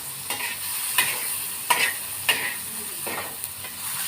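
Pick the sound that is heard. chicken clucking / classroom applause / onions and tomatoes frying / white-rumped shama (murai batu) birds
onions and tomatoes frying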